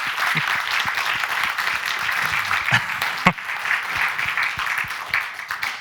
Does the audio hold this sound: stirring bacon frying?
no